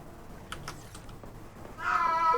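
A 16-year-old cat lets out a single loud, close meow near the end, after a few faint clicks and taps in a quiet room.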